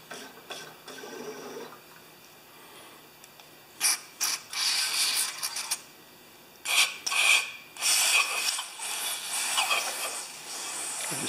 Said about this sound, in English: that's the carburetor cleaner going down the spout into the tank and through the filter